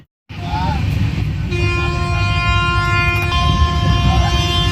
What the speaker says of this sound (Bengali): ঢুকে গেল জম্বু তাওয়াই আসানসোল রেলওয়ে স্টেশনে।